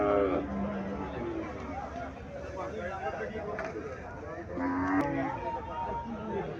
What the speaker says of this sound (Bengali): এখানে একটা দেশি গাভী দেখা যাইতেছে।